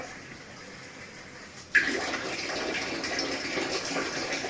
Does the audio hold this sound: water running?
yes